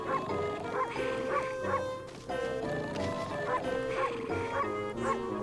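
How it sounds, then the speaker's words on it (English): A wolf barks in the Okami video game, giving a series of short, bright yips and barks in a steady rhythm over soft background music. "Now, can I wake him up with some barking?"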